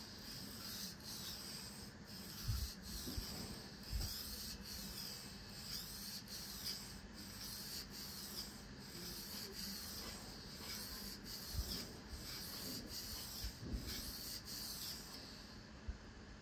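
An old kitchen knife is drawn steadily across a sharpening stone in repeated strokes, a continuous gritty rubbing close up with a few brief knocks, no talking.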